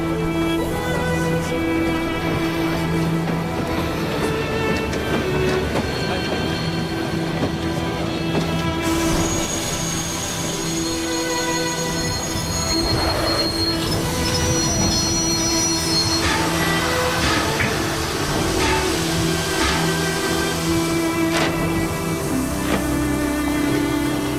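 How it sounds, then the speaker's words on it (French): A train from Lyon pulls into a station, a loud, continuous rumble of railcars with sustained metallic wheel squeals rising and shifting throughout. "Arrivée en gare du train en provenance de Lyon."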